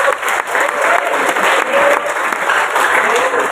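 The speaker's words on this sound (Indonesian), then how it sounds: "Tepuk tangan buat Kota Cirebon." Audience applause at a civic event in Cirebon, Indonesia: steady, dense clapping from a sizeable crowd that fills the whole stretch at close range, with a few voices faintly mixed in.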